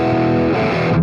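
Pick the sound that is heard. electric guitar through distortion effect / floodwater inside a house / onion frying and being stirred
electric guitar through distortion effect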